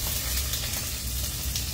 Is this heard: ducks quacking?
no